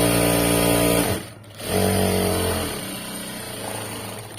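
A sewing machine stitches neat top stitches along fabric in loud motor bursts, pausing briefly once before running again more softly with no talk.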